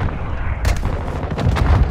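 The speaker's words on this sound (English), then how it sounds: "Throwing Semtex!" Semtex grenade blast in the shooter Call of Duty, a sharp loud bang partway through followed by rumbling booms and gunfire in a busy battle scene.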